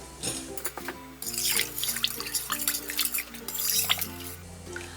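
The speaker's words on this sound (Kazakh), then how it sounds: "енді қасықпен араластыруым қажет" Sugar being stirred with a spoon into cherry juice in a 2-litre jar for compote: liquid swishing and dripping sounds run throughout, fairly close, over a steady tonal background with no talking.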